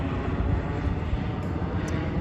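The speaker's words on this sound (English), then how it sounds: "helicopter, James" A helicopter flies over the East River in Manhattan, its steady engine and rotor roar loud and continuous outdoors with no breaks.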